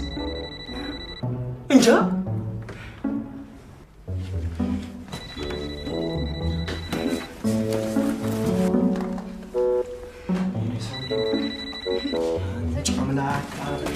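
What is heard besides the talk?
telephone ringing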